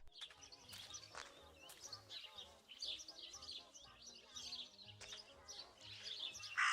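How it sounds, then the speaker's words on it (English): A raven calls in the video game Martha Is Dead amid busy outdoor birdsong, with repeated chirps and squawks at moderate volume scattered throughout. "That raven is making a big fuss."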